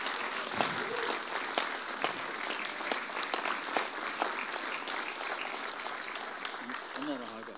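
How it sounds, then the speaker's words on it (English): An audience claps steadily at a church-style gathering, a dense patter of many hands sustained throughout, with voices talking over it near the end. "Give him a clap."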